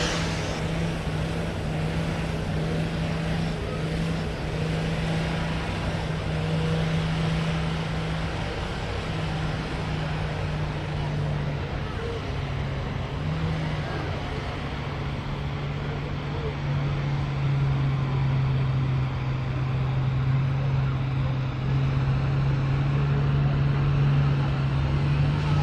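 An International 806 tractor engine roars at a tractor pull in Ashland, a loud, sustained low-pitched drone that holds steady for the whole stretch with slight shifts in pitch, over faint background crowd noise.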